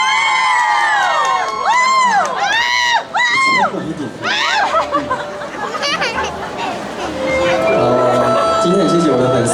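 A concert crowd at a Christmas music event in a cinema plaza cheering and shouting loudly to welcome the singer, with shrill whoops rising and falling over a dense babble of voices.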